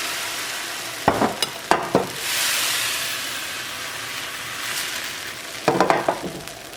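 Neer dosa batter cooking on a hot pan: a soft continuous sizzle with a few sharp scraping clatters at the start and again near the end, no talking.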